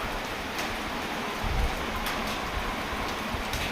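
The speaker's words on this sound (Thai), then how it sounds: "ฝนตกดีเข้างามดี" Steady rain pours down outdoors, an even broadband hiss lasting the whole stretch with a few brief heavier patters and no voices.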